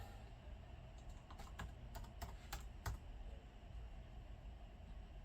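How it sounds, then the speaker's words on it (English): Slow hunt-and-peck typing on a computer keyboard in an office: a few faint, unevenly spaced key clicks over about two seconds, then only quiet background hiss. "No, I do not know how to type. I just hunt and peck."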